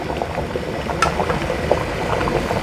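Close up, a thin layer of yellow durian batter is poured in for a steamed Thai layered durian dessert, giving a continuous soft liquid trickle and bubbling with no voices.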